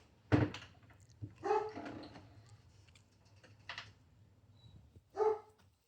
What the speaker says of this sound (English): he's starting to bark at them when he kind of catches up